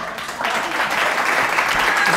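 An audience at a comedy show applauds steadily, a dense wash of clapping that holds for a couple of seconds. A few voices come through faintly underneath.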